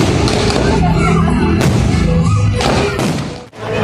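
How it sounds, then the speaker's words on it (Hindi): A fireworks display over Parliament House during Pakistan's Independence Day celebration, with loud continuous booms and thuds rolling under a dense wash of crowd noise and talk. "उसके बाद से आतिशबाजी का शानदार मुजाहरा किया जा रहा है"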